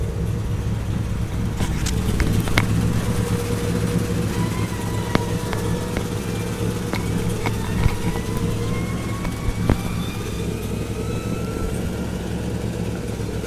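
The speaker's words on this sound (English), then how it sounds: "You'll see the significant enhancement of the electrical convertible top motors coupled with a 12-volt electrical system." Electric convertible top motors on a 1948 Cadillac with a 12-volt system run steadily, giving a continuous low mechanical hum with a faint rising whine. The sound stays unbroken throughout, with no talking.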